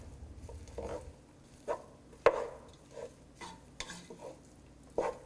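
Mashed jackfruit seeds, potato and chopped coriander leaves are stirred together in a bowl, producing soft, irregular scrapes and dull knocks, quiet and close, with no voices.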